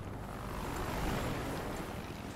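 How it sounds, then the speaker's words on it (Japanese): A patrol helicopter in the video game Battlefield Hardline drones faintly in the distance, a steady, muffled rotor wash. "パトロールヘリがいるな。"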